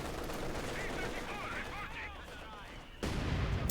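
Mortar rounds shelling positions in a Company of Heroes 2 match between Wehrmacht and Soviet forces, a steady rumble of gunfire and blasts with a louder, closer impact near the end, under a commentator's voice.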